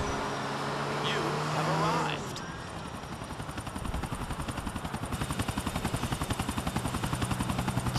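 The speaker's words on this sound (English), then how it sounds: "This might be a police chopper." A helicopter in Grand Theft Auto IV, first a steady engine whine with a brief rising game effect, then the rotor's fast, even chopping pulse growing loud and close, with no talk over it.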